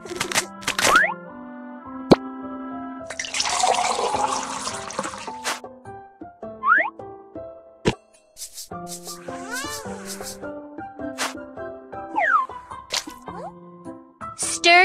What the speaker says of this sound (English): Stir to beat the eggs well.